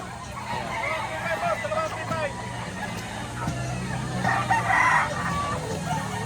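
Roosters crow repeatedly amid clucking fowl at a busy rooster market in Lipa, Batangas, with several birds calling over a constant crowd murmur while someone talks nearby.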